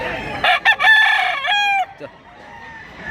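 A large rooster crows loudly and close by, one long harmonic cock-a-doodle-doo, followed by a short quieter cluck.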